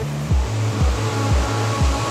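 Water pours steadily at Kinabuan Falls in Sitio Kinabuan, Tanay, Rizal, running at low flow: a continuous broadband rush with a low, rhythmically stepping hum beneath it and no voices.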